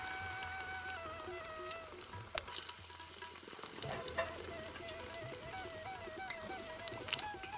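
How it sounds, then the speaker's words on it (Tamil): Cabbage vadai fry in hot oil on a medium flame, a steady, close sizzle and crackle with occasional louder pops and a faint background hum. "அதனால் மீடியம் ஃப்ளேம்லேயே வச்சு தான் இதை பொறிச்சு எடுக்கணும்"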